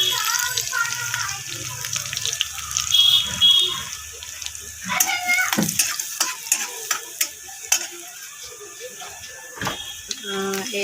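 Garlic hits hot oil in a wok, giving a steady frying sizzle laced with sharp clicks and scrapes of stirring that grow more frequent as cooking goes on.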